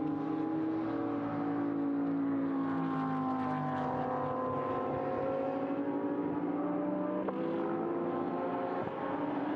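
Race cars at the Magny-Cours circuit give a steady, sustained engine drone with gliding pitch as they accelerate and brake, heard at a distance and continuous throughout, with no voices.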